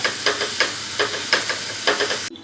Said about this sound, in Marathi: तेलाने त्याला तव्याला ग्रीस करते अशी ब्रशने आणि त्याच्यावर हे बॅटर टाकते एक चमचा आणि पसरवून घेते